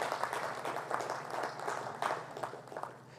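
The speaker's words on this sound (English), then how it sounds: "Request everyone to kindly give a round of applause for CA Manoj Fadnis." Audience applause at an audit workshop panel discussion, steady clapping from a crowd heard at a distance and fairly faint, with a few sharper claps standing out.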